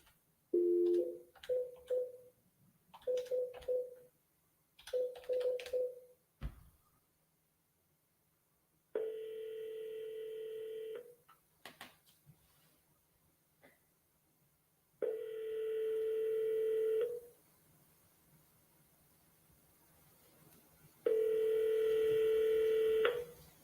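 A telephone keypad beeps out a quick series of dialing tones, then three long, evenly spaced ringing tones sound with silent gaps between them. The tones are clear and there is no talking.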